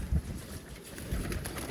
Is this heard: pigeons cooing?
yes